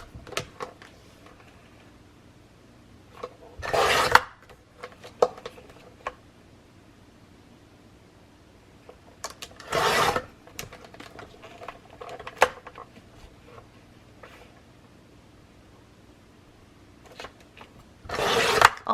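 A blade slices through craft strips at a work station, three separate broadband cutting strokes a few seconds apart, each a brief loud rasp, with faint rubbing and handling sounds between them.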